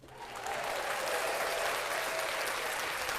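Studio audience applause on a live sports talk show, a dense steady clapping that swells in quickly and holds at full strength throughout.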